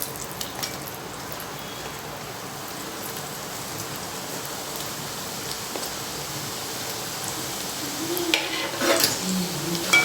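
French fries fry in hot oil a second time for crispness, a dense steady crackling sizzle like heavy rain, close and even, with a slight rise and clatter near the end, no voices.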